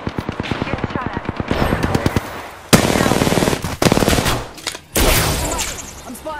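Rapid automatic gunfire from a first-person shooter video game rattles in long bursts and sharp single shots, loud and close, with game sound effects in between.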